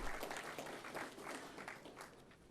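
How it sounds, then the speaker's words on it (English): A room at a regional ministerial business engagement in Namibia fills with a soft, continuous round of applause, many hands clapping at a distance with no voices standing out. "Can we give the Honorable Minister another round of applause?"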